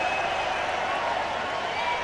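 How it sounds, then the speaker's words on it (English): Cricket stadium crowd at a one-day match in Bombay roaring and applauding a boundary, a dense, steady wall of cheering and clapping that holds loud throughout. "Huge roar from the crowd."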